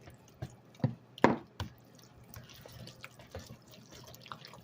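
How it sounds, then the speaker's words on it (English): Raw eggs are cracked and poured into sweet potato pie filling, giving a few soft taps and wet plops close by, followed by quiet splashing. "I was going to beat them, but I'm going to just crack them, put them on in."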